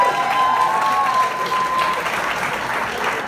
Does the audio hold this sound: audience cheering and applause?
yes